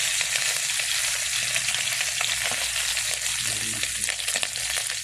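Fish paksiw fries in a pan with a loud, dense, steady sizzle and faint crackles throughout, and no voices.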